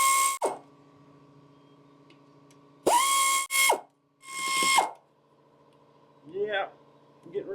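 Oil pan bolts on a Dodge engine come loose under a power ratchet, heard as several loud buzzing bursts of a second or less with pauses between them and engine-bay handling noise close by.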